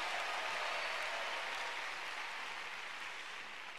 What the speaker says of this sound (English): Give the Lord a big clap and a shout of praise